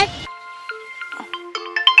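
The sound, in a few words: phone ringtone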